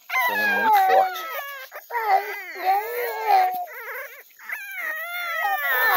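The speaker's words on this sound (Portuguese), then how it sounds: "Aí, tão latindo." American Bully puppies of the micro red-nose type let out a steady run of high yelps, whines and howling barks, near and loud, with several voices overlapping.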